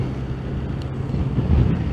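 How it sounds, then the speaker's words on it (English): Wind buffeting the microphone on a Yamaha FJ motorcycle test ride, a steady low rumbling roar with no break, growing slightly stronger toward the end. "I just wish this wind would go away"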